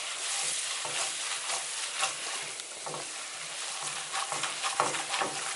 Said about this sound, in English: And then you just stir this with a whisk, and it gets like a thick gravy looking base.